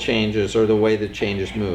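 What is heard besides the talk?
No distinct noise like a dog, phone or traffic.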